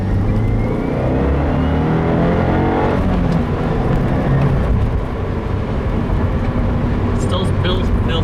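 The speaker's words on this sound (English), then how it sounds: "So here goes nothing. Second gear, full throttle." A 2015 Subaru WRX with a Stage 1 tune pulls hard at full throttle in second gear, a loud rising engine and exhaust roar building steadily from the cabin, briefly dipping around a shift, with road and wind noise underneath.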